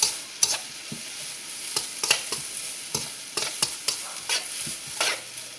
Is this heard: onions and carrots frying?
yes